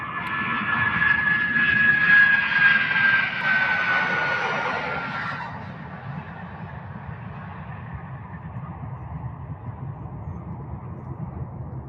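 Jet airliner with Rolls-Royce engines at a busy cargo airport hub, a loud broad engine roar that swells and then recedes and fades away into a lower distant rumble.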